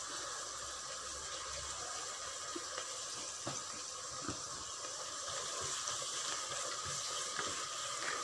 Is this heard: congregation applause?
no